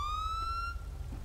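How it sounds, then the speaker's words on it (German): Police car siren in GTA 5 with the LSPD:FR mod: a loud rising wail that holds for under a second and cuts off abruptly, leaving a low engine-like rumble. "Steigen aus, machen Sirene an und aus."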